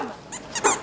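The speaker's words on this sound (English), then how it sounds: "Crazy dog." A dog at an airport gives a few short, close growling barks, rising to a louder final bark.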